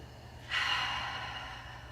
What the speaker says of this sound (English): Take 2 cleansing breaths to completely let go of breath control